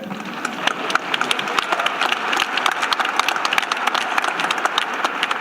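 A commencement ceremony audience claps steadily, a dense, sustained wash of many hands from a large crowd heard at some distance in a big hall.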